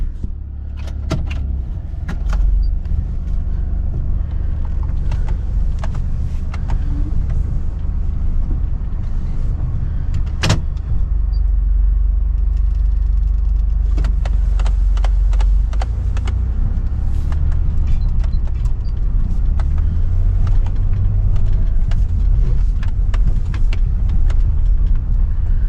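A Saturn car driving on the road, with steady low engine and road rumble from inside the cabin, scattered clicks and knocks, and one sharp bump partway through; no talking.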